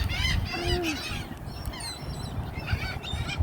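Geese and other fowl at a bird park in New Orleans honk and call in short bursts over a steady low rumble of outdoor background noise, fairly close by.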